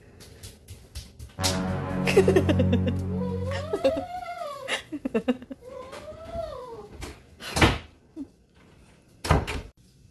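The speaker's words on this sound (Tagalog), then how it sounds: "Sinarahan niya ako ng pinto." A door is shut at home with a couple of firm thuds, while a cat meows and yowls in between and a voice is heard briefly.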